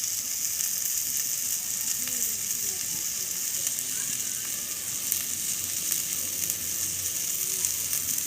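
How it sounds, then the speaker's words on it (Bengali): Spices and noodle masala fry in a pan, a constant close hiss of oil with faint crackles and occasional soft scraping, steady throughout without talk. "এটাকে ভালো করে ফ্রাই করে নেব"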